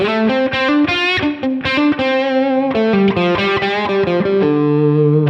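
Electric guitar played through a Line 6 Helix Dynamic Ambience reverb set to a big room with a high mix, a run of distorted picked notes and chords ringing into a roomy tail, no talking.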